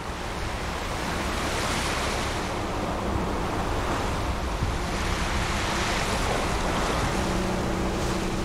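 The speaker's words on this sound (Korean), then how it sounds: "다음 날에도 파도는 잦아들지 않았다" Heavy ocean surf rolls without pause off Seogwipo on Jeju, loud and close, its wash mixed with gusting wind on the microphone.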